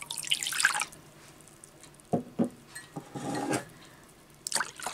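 Water poured from a glass into a bowl holding an egg and salt for coconut-milk pancake batter, heard as a bright splashing pour at the start and then a few short drips and splashes close by, with no talking.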